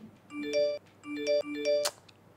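A phone message notification chimes nearby: a short bright electronic jingle of several quick tones, clear and alone, ending in a sharp tick.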